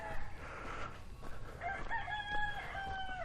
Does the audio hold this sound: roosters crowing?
yes